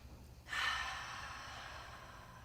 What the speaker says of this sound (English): And just take a couple cleansing breaths.